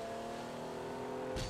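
A car engine revs in Fortnite, a sustained, steady droning whine that holds its pitch before a brief burst of noise at the very end.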